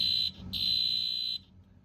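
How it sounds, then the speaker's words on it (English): A septic system alarm horn, triggered by a raised float, sounds as a loud, piercing electronic tone. It cuts out briefly, resumes, and then stops abruptly. "So this is what an alarm should sound like once the float is up in the system."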